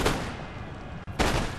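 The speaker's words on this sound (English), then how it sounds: "So we can get a nice volley onto the general." Musket volley fire from massed infantry lines in Napoleon: Total War, a loud, sustained crackling roar of overlapping shots that briefly cuts out near the end before a fresh burst resumes.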